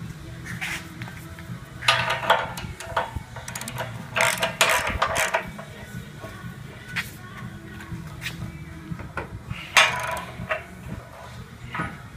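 Clanks and creaks of a homemade sheet metal brake in a shop or garage as it folds 1/8 inch steel, a run of irregular metallic knocks and ratcheting scrapes at close range over a low steady hum.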